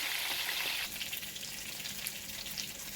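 Jamaican dumplings frying in a pot of hot oil give a steady, close hiss and crackle that softens slightly after the first second and carries on evenly, with no talk over it.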